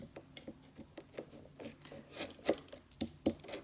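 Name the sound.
cutting canvas off a frame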